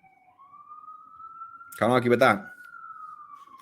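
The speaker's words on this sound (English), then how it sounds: "And there are the sirens." A police siren passes outside, a thin wailing tone sliding up and holding steady in the background while someone speaks briefly over it.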